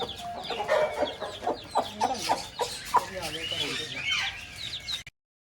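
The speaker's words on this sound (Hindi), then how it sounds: "आ जाओ मुर्गी, कैसे बात कर रहे हैं?" Several chickens cluck and chatter close by in a busy, overlapping stream, with short sharp calls scattered throughout and faint outdoor background.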